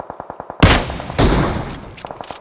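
A shooting video game gives a quick run of light clicks, then two heavy, loud bursts of gunfire close by, with short sharp reports trailing off at the end.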